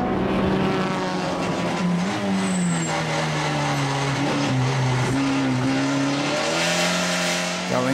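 Racing cars in a Dutch Supercars event roar past on the Assen circuit, engine notes rising and falling continuously as several cars pass close together through a fast section, loud and sustained throughout.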